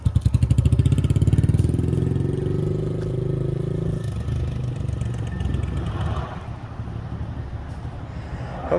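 A 2020 Honda Grom motorcycle engine on a test ride, with a loud, rhythmic throbbing at first, then a smoother, steadier running note that fades slightly toward the end.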